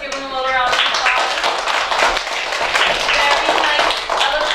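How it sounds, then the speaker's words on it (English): Applause from a third-grade school class visiting an old one-room schoolhouse, a dense burst of many small hands clapping steadily and loudly for several seconds, with voices mixed in. "Let's give him a little round of applause."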